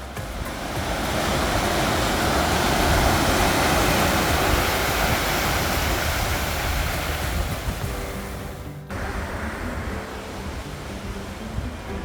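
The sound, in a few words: sea waves at Kovalam beach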